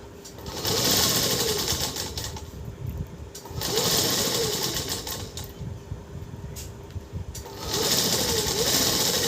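A sewing machine stitches fabric for a Ganpati feta (turban) in three bursts of fast, whirring running, with brief pauses and a low background hum between them.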